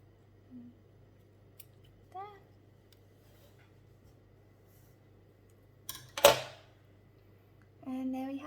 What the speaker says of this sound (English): so we cut off the excess cord